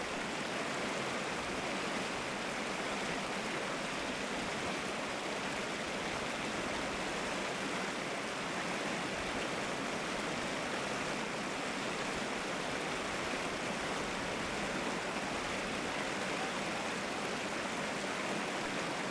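Flowing river water where sheep are being bathed, a steady broad rushing wash that stays even and unbroken throughout, fairly faint and close, with no voices.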